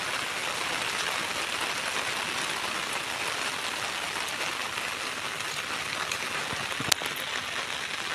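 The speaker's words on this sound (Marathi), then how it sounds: "तर पाऊस बघा" Steady rain pours over a farm field in a continuous, even hiss with no pauses, broken only by one sharp click about two-thirds of the way through.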